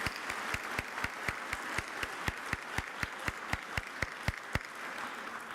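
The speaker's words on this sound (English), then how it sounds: "Let's applaud all of those wonderful companies." An audience at a 25th anniversary gala applauds its sponsors with steady crowd clapping, while sharp, evenly spaced claps stand out in a regular rhythm throughout.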